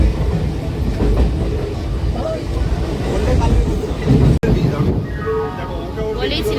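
A Memari–Howrah galloping local train, a through train, rumbles and rattles loudly and continuously at close range, with voices in the background.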